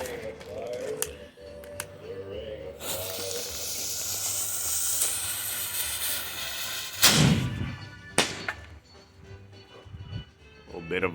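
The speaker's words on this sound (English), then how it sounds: "Let's go straight to the ignition on that one." A single parachute consumer firework's fuse catches and hisses steadily for several seconds, then gives a sharp thump as it launches, with someone talking faintly and other noises around it.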